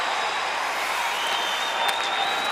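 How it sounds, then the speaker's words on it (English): Pro-Coyote hockey arena crowd applauding a penalty kill during a Red Wings at Coyotes playoff game, a steady wash of clapping and crowd noise that holds at an even, full level throughout with no break. "Pro-Coyote crowd here acknowledging the penalty killing"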